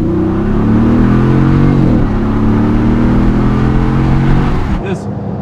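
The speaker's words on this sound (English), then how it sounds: "Just bumping the throttle." Jeep fitted with a V8 engine rumbles loudly from inside the cab as the throttle is bumped, a deep steady drone with slight rises in pitch, voices talking over it.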